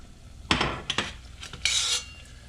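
Salmon croquettes being lifted out of frying oil with a metal utensil give a few close metallic clinks and scrapes against a pan, with a soft bubbling underneath and no voices.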